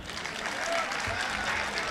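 A school audience of parents at Maharishi Vidya Mandir breaks into a brief burst of applause for the children, a soft, diffuse patter of clapping lasting under two seconds.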